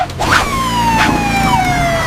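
A cartoon fire truck siren wails in a long, sliding tone that falls gradually in pitch, loud and alone, over a faint engine rumble in an animated rescue scene.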